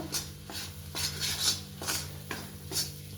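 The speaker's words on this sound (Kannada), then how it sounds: "ಇದನ್ನು ಚೆನ್ನಾಗಿ ಕೈ ಆಡಿಸ್ಬೇಕು" Wheat halwa (khada prasad) with ghee being stirred steadily in a pan, giving repeated rhythmic scraping strokes of a spoon against the metal, close and fairly quiet, with no talking.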